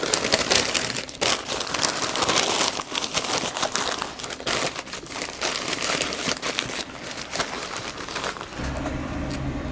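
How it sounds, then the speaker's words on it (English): Butcher paper is folded and wrapped around smoked Texas-style beef ribs at a Pit Boss Navigator 850 grill, a dense run of close, loud crinkling and rustling that stops near the end. "it's time now to wrap it in butcher paper and to put it back in the barbecue for maybe 2 or 3 hours more"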